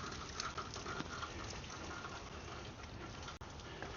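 Rain keeps falling on garden plants after three days and nights of rain and wind, making a continuous, dense patter with one brief dip near the end.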